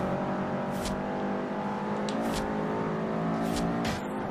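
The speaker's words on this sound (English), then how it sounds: "this thing accelerates like a beast" A car in the racing game Forza Horizon 2 accelerates hard from a launch, its engine note climbing through several gear changes in a loud, continuous roar.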